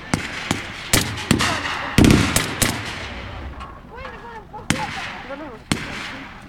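Sharp, loud reports and cracking shots ring out repeatedly, roughly once a second, as an anti-tank cannon fires from a vehicle during a battle reenactment at a Rapla defence day demonstration, with scattered gunfire and distant voices between blasts.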